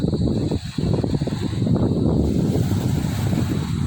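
Steady wind buffets the microphone at a beach, a dense roaring rush with a faint surf-like wash beneath it.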